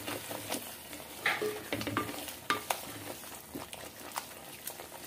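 Curd being stirred into tomatoes softening in a frying pan: soft sizzling underneath irregular spoon scrapes and light clinks against the pan, close and fairly quiet.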